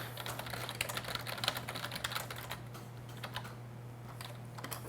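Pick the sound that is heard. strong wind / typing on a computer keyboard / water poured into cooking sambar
typing on a computer keyboard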